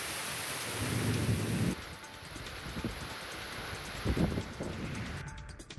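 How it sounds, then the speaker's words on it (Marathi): Heavy rain falls in Mumbai as a dense, steady hiss with low rumbling swells and scattered patter, heard up close with no voices. "आज सकाळपासून पावसाची रिपरिप सुरू आहे"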